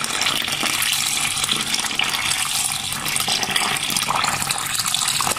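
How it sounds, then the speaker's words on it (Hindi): Water pours from a tap into a container of tamarind set to soak, a loud steady gushing fill that runs continuously with slight changes in pitch and no talking. "तो इसमें जो है ना वो मैं ये उस तरीके से पानी ऐड कर रही हूँ।"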